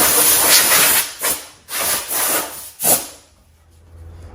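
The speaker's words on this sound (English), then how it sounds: "I'm going to blow some compressed air in a rag, get the dust off of it" Compressed air blown into a rag during a John Deere LA165 lawn tractor restoration: loud, close rushing hiss in several bursts of uneven length, fading to quiet at the end.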